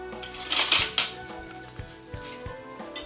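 A spoon stirs vanilla and cinnamon bread pudding mixture in a bowl, making quick scraping clinks and a few sharp taps against the side, close and brief.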